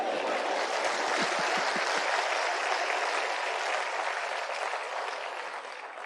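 An audience breaks into dense, sustained applause, many hands clapping together in a steady wash that tapers slightly toward the end.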